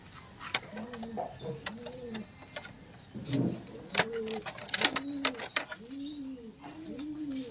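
Pigeons from Sorsogon coo repeatedly in soft rolling phrases close by, joined by sharp clicks and rustling handling noises, with someone talking at times.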